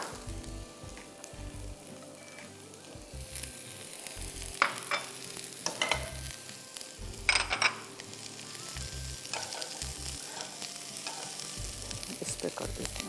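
Onion and bell pepper sautéing in a little oil for a peanut soup, a steady close sizzle with occasional louder spatters and stirring clatter, no talking.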